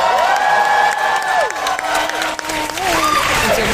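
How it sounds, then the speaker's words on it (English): Audience applause and cheering from a large crowd in Hall H at San Diego Comic-Con 2018, during a panel; sustained, loud clapping mixed with whoops and shouts filling the hall. "Hold for Applause."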